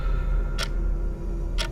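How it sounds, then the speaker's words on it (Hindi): Clock ticking heard in a quiet room at night: two sharp, isolated ticks about a second apart over a low steady background hum, with no voices. "और साथ ही घड़ी की टिक टिक"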